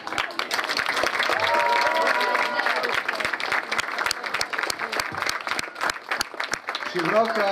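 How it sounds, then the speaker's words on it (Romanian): An audience applauds at a ceremony during Albano's visit to Bucharest, a dense, steady wash of many hands clapping that fills the whole stretch, with a voice briefly audible near the end. "Vreau să-i mulțumim foarte mult, să-l aplaudăm."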